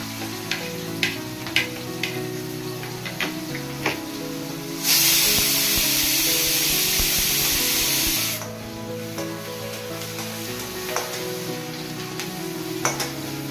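Chopped onion, dried chili and bay leaf dropped into hot oil, a loud burst of sizzling and hissing that settles into steady frying with a few spoon clicks.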